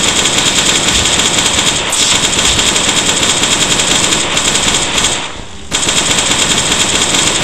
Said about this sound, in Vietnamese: Vẫn có thể bắn nó từ đây nha các bạn.